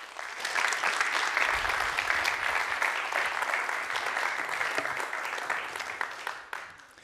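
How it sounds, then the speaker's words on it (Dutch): A lecture audience at the Vrijheidscollege gives a big round of applause to Tineke Ceelen. The clapping rises quickly to a full, steady wash of many hands and then fades away over the final second. "Mag ik een heel erg groot applaus voor Tineke Seelen."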